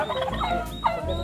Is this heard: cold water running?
no